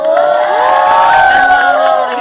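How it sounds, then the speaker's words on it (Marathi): Festival crowd at a Marathi rap battle cheering and shouting loudly, a dense, sustained roar of voices with no pauses. "एकदम जोरात टाळ्या वाजून द्या ना"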